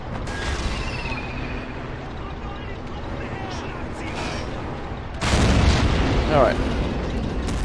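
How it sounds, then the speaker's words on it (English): Heavy artillery in the Stalingrad 1942 battle of Men of War: Assault Squad booms out in a deep burst partway through, over a constant rumbling battlefield bed, while someone talks briefly. "the artillery gun's now firing at the enemy's attack"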